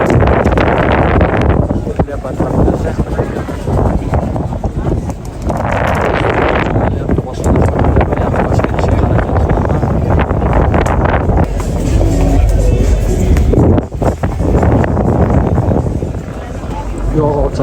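Wind blowing over a pirate-style tourist ship on the open sea off Alanya, heavy roaring gusts buffeting the microphone, with someone talking over it.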